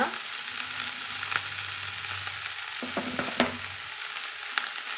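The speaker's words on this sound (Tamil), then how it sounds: "நல்லா கலந்து விட்டுக்கலாங்க எல்லா பகுதியிலையும் நம்ம தாளித்த எண்ணெய் வெங்காயமெல்லாம் படும்படி கலந்து விட்டுலாங்க" Broad beans being stirred in a pan with tempered oil and onions, a steady sizzling fry broken by a few scraping stir strokes close by, no voices.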